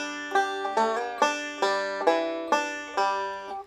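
A five-string banjo plays a slide lick at a slow tempo, bright plucked notes in a steady repeating pattern, close and clear with no talking.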